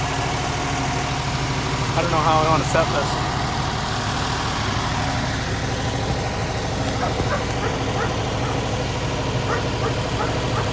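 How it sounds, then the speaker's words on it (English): A 1960 Ford F250 brush truck with a 292 Y-block V8 idles with a steady, low, rumbling exhaust close by, while a person talks over it. "set the phone up against this tire over here and we can get an exhaust note"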